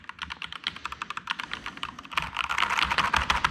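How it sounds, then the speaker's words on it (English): Rapid typing on a computer keyboard being tried out during an unboxing, a quick run of close, crisp key clicks that grows denser and louder toward the end, with no talking. "I think I can use this keyboard. It's actually nice to, like, I feel like that's nice to type on."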